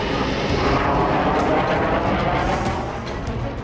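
A British Typhoon fighter jet on patrol in NATO airspace, shadowed by Russian Sukhoi aircraft, a loud continuous engine roar heard from the cockpit, steady and broadband, easing slightly toward the end.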